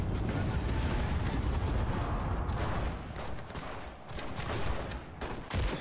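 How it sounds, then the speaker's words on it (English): Artillery fire and gunfire in the World War II video game Enlisted, during a battle for Berlin, with dense overlapping blasts and shots that continue steadily and then ease slightly before bursts return. "Artillery on this position, get into the trench!"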